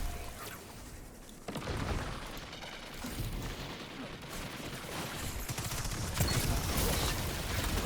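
Dense gunfire in the Destiny 2 shooter game, with rapid rattling shots and thuds that build steadily and stay busy and close, with no talking.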